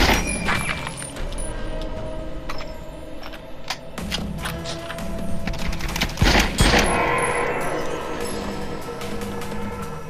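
Rifle gunfire in the VR shooter The Light Brigade: a dense barrage of sharp, close shots fired in rapid bursts, loud and continuous with brief gaps between volleys.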